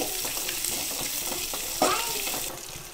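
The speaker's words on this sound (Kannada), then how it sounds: "ಒಗ್ಗರಣೆ ಜೊತೆ ಒಳ್ಳೆ ಫ್ರೈ ಆಗಬೇಕಿದು." Chopped onions fry with a tempering in a pan for Mangalore-style squid sukka (bondas masala fry), giving a steady close sizzle with occasional stirring scrapes and a brief louder clatter partway through.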